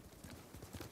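A horse's hooves in the game Ghost of Tsushima clop in a quick, faint rhythm, with a quiet hint of a voice.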